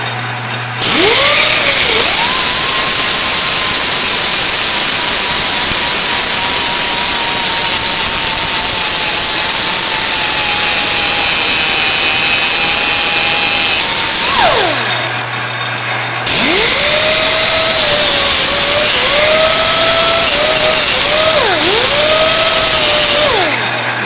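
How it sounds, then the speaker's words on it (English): A small grinding wheel trims brass engine greaser cups beside a lathe, a loud, near, steady motor whine with a tonal hum that runs about fourteen seconds, winds down briefly, then spins back up and continues. "So what I use is this little grinding wheel."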